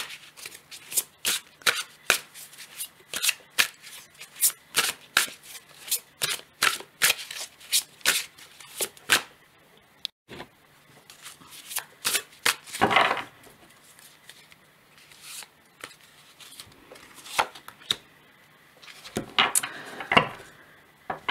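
Tarot cards being shuffled and drawn, a quick run of crisp riffling flicks and slaps for about nine seconds, then scattered card snaps and slides with gaps of near silence.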